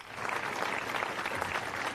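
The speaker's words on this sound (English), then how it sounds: "Give them another round of applause" Sustained applause from a band concert audience for the trumpet section of the Peoria Municipal Band: a dense, even wash of many hands clapping, steady and fairly loud throughout with no voices over it.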